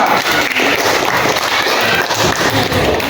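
Applause for a student group in a classroom lesson, a dense, steady burst of clapping from many hands, loud and continuous throughout.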